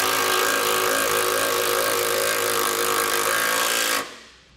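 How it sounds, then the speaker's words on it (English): Power tool with a 10 mm socket tightening Curt trailer hitch bolts on a 2020 Lincoln Corsair, a loud continuous whirring hammer rattle held close for about four seconds before cutting off and winding down. "We can then go back and tighten them down with our 10 millimeter socket."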